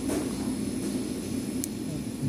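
A Gree cassette-type air conditioner running in cold mode gives a steady, even drone with a low hum and a soft airy hiss, constant and close throughout with no voices.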